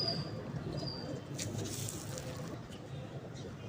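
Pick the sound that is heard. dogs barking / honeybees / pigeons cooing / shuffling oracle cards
pigeons cooing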